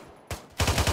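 Rapid bursts of automatic gunfire in a multiplayer shooter game session, Project Awesome's Operation Forlorn Hope, starting with a few loud shots and building into a dense, close, sustained rattle.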